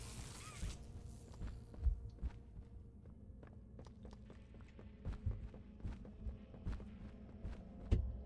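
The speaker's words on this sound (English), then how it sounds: "I hear footsteps." Footsteps in the Poppy Playtime horror video game, a series of soft, irregular thuds at moderate distance over a low ambient drone, with a couple of louder steps standing out.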